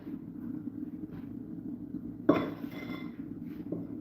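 A cooking pot being scrubbed with cutlery at a kitchen sink during ugali cooking, with a single sharp metallic clank and a brief scraping rattle over a quiet, low hum.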